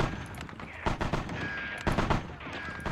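Machine gun fire crackles in the war strategy game Sudden Strike. Several bursts of sharp, mid-distance shots break out irregularly over a low battlefield rumble.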